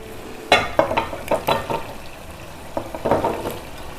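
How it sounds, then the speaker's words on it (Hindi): Minced meat frying in ghee in a pot, with potatoes tipped in: a handful of clattering, stirring bursts over a steady sizzle, close and fairly loud, with no talking. "अब इसमें हम आलू डालेंगे।"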